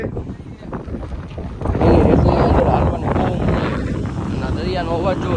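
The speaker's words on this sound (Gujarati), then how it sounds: "જેટલો પણ અવાજ આવે છે ને બધો પવનનો અવાજ આવે છે ભાઈ" Loud wind at the seashore roars and buffets close to the microphone in a continuous rumbling blast, with people talking under it.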